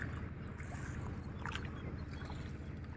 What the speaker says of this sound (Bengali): এই যে ট্রলার, বিশাল বড় ট্রলার আসতে আছে আমাদের এদিকে।